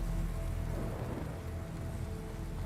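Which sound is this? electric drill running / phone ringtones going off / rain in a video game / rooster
rain in a video game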